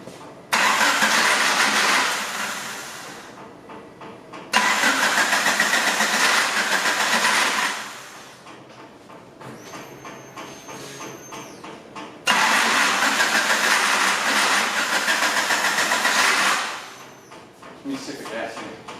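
A Honda CRX engine cranks and fires up three times, each start roaring loud and close before running briefly and dying away, with quieter clanks and rattles in the gaps between attempts.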